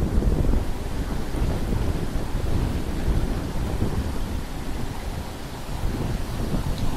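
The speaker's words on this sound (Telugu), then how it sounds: "బోత్ సైడ్స్ నుంచి ఓపెనింగ్ నుంచి వచ్చిన వాటర్ మనకి ఇలా వస్తుంది" Floodwater rushes through the openings of a coffer dam at the Polavaram project in the rainy season, making a continuous, dense, loud roar close by with no speech.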